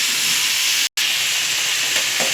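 Cauliflower sautéing in hot oil for a cauliflower poriyal, a close, even hiss and sizzle with a brief drop to silence near the start, otherwise steady and without voices.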